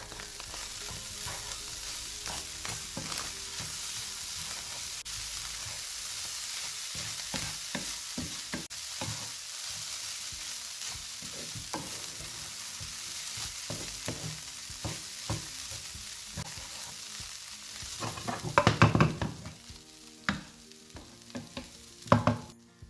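Spring roll filling with spring onion is stirred in a pan, a spoon scraping and turning it over a soft, continuous sizzle, close up, with louder clattering stirs toward the end.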